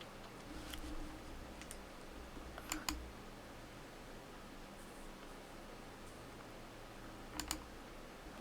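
A few sharp computer mouse clicks, some in quick pairs, sound faintly against a steady low room hum with no talking.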